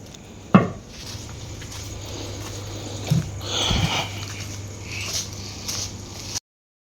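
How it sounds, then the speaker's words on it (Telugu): A small bell tied to a running dog's neck jingles in short metallic bursts, with a sharp rattle near the start and scattered jingles later over a low steady hum. "ఏంటా గజ్జలు సౌండ్ అనుకున్నా దీని మెడ గజ్జి కట్టారు పరిగెడితే గిలగిల్లో వస్తుంది"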